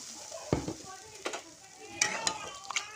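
Water added to a sizzling spice masala in a pan, a short burst of hissing sizzle with a few sharp utensil scrapes and clinks, close and moderately loud.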